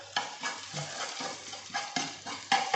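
Tomato puree being stirred into a cooking pot, with repeated scraping, sloshing strokes in an uneven rhythm, close and moderately loud with no voices.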